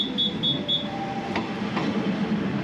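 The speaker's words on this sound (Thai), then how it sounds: "รถไฟที่เรานั่งนะคะ" A Thai special excursion train from Hua Lamphong to Sai Yok Noi on the Death Railway rumbles along the rails with a steady mechanical roar, faint high whistle-like tones early on and a few soft clunks.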